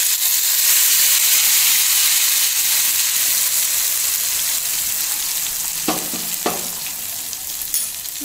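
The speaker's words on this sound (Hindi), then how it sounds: "मसालों को अच्छे से मैं फ्राई करूंगी।" Spices and shahi jeera fry in a little oil in a small kadhai. A loud, steady, close sizzle continues throughout, broken by a couple of short utensil clinks near the end, with no speech.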